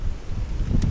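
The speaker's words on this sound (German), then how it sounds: "Es ist auch echt sehr windig." Wind rushing and buffeting the microphone outdoors during a first test of a FYRO camping stove, a steady, fairly loud low roar lasting about a second.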